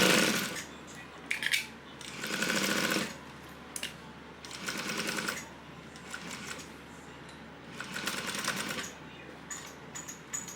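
A sewing machine runs in several bursts, stitching a 3/8 inch seam with back stitches at the start of a crossbody bag; rapid mechanical whirring bursts alternate with short pauses and small handling clicks, close and moderately loud.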